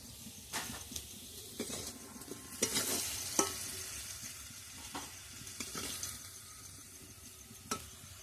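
Potatoes frying in oil with turmeric, a gentle continuous sizzle punctuated by repeated scraping and stirring strokes of a utensil in the pan, fairly quiet and close.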